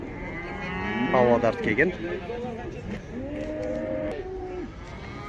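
Calves at the Taraz livestock market moo loudly and close by, one long bellow followed by another drawn-out call, with someone speaking briefly amid market background noise.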